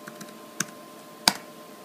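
A computer keyboard is tapped a few times at a desk while a password is entered on a Mac, giving two sharp clicks and a couple of fainter ones over a low hum, close and alone.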